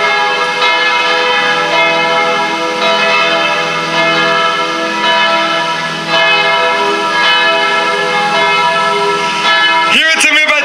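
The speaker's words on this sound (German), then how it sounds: "aus der Lautstärke dieses Glockengebimmels" Church bells at Mariahilferplatz in Graz ring loudly over a street demonstration, a dense, sustained clangour of overlapping peals that fills the whole stretch, with a brief burst of other noise near the end.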